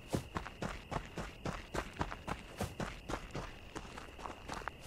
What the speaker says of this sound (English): The footsteps sound like they come from behind me.